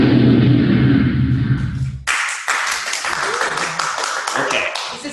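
Audience clapping in a lecture hall erupts loud and dense, a steady crowd applause running several seconds after a low murmur of talk fades out.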